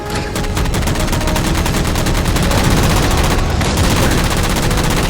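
Rapid gunfire while shooting down enemies in Halo 4, dense sustained bursts of loud automatic fire with a short pause midway, heavy and continuous throughout.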